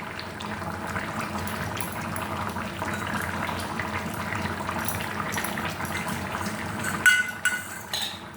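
A pot of food bubbles at a steady boil, a continuous soft hiss and burble, then a few clinks of a pot and utensil near the end.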